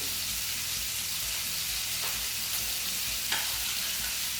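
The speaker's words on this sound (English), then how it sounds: "Just stir everything through." Apples with sugar sizzle and bubble in a pan over medium heat as they are stirred, a steady close hiss of frying with soft scraping.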